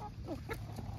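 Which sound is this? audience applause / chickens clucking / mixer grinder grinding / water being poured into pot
chickens clucking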